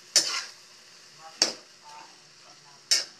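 A utensil scrapes and stirs eggplant with egg in a frying pan, three sharp scraping strokes spaced about a second apart over a faint sizzle.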